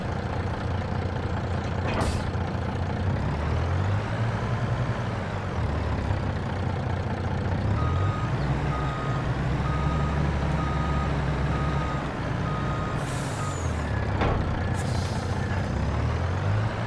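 Large truck reversing with its beeper sounding in steady repeated pulses over a loud idling diesel engine, with air-brake hisses, close by throughout.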